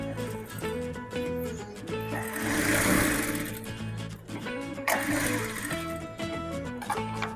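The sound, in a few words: sewing machine stitching a cargo pocket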